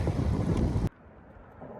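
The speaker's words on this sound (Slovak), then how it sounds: "Brutálny vietor tu je. A vyslovene niekedy dosť nárazový." Strong gusty wind near wind turbines buffets the microphone in a loud roaring rush that cuts off abruptly after under a second, leaving a quieter breezy background with no talk.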